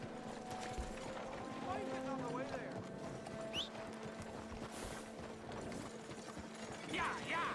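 Horse hooves clip-clopping in the video game Red Dead Redemption 2, a steady soft rhythm under game ambience and occasional mechanical clicks, with a person talking over it.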